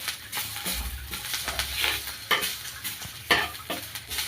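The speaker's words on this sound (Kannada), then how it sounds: "ಅದೇ ತವ ಮೇಲೆ ಕರಿಬೇವು ಹಾಕ್ಕೊಂಡು ಚೆನ್ನಾಗಿ ಫ್ರೈ ಮಾಡಿ." Curry leaves fry on a tawa with a steady close sizzle and crackle, punctuated by a few sharp spatula scrapes and stirring strokes, no voices.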